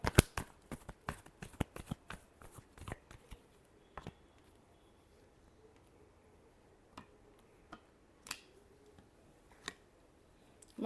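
Tarot cards being shuffled by hand in a final shuffle: a dense run of crisp, close card snaps and riffles for the first few seconds, then sparse single clicks over a quiet room.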